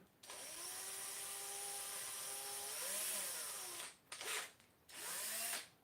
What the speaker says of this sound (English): I'm going to drill through the centre of the spider instead